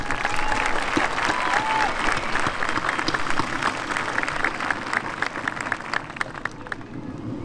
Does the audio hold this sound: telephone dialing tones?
no